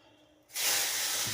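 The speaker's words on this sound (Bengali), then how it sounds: "চলেন মাছ ভাজতে যাই।" Tangra fish hit a hot pan and a sudden loud, steady sizzle rises and holds, a close, bright hiss with no talking.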